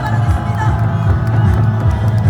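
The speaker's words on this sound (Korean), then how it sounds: "박수를 더 크게 함성 함께 보내주시기" Crowd at an outdoor political rally in Daegu applauding and cheering, a loud continuous roar of clapping and shouting voices with rhythmic swells throughout.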